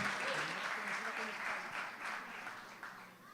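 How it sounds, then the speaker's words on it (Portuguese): A church congregation applauds during an evening celebration service, steady soft clapping from many hands heard at a distance, gradually fading slightly toward the end. "Você pode aplaudir a Deus pela vida da nossa irmã?"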